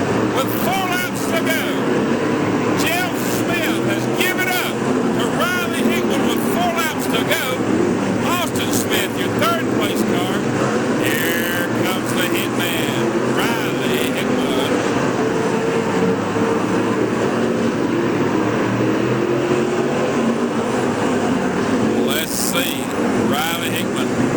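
Late Model race cars roar around Boyd's Speedway, a steady, loud engine drone running continuously through the whole stretch beneath an announcer calling the race.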